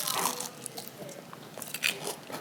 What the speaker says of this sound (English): These are so crunchy, they're so good. I mean, just listen.